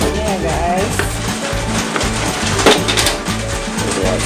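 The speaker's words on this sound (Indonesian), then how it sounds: "Sekarang kita tumis bumbunya ya guys." Spice paste for rendang sizzles as it is stir-fried in a hot pan, with a continuous close frying hiss and rhythmic scraping strokes of a wooden spatula throughout.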